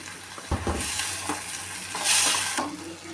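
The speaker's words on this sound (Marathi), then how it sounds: "बारीक चिरून टोमॅटो घेतला होता तो आपण याच्यामध्ये परतून घेऊया" Finely chopped tomato sautéing in a pan with salt for a fish curry, giving a steady close sizzle with brief stirring scrapes and a louder hiss near the end.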